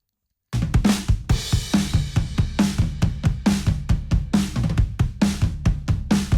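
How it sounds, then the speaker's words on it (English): A drum kit recorded with drum microphones in a small room plays a steady rhythmic groove with punchy kick and snare hits and cymbals, close and roomy, continuous after a short silence. "So that is the sound of the drums, just the drum microphones in the room."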